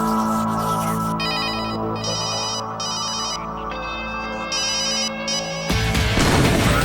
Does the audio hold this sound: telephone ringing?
yes